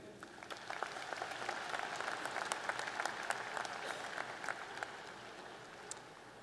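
Steady applause from a graduation ceremony crowd, many hands clapping together continuously at moderate volume throughout, with no voices over it.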